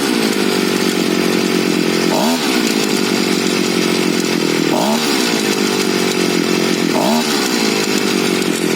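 Petrol brush cutter engine running after a carburetor adjustment, a loud steady high buzzing drone with brief wavering dips in pitch every couple of seconds, close and continuous.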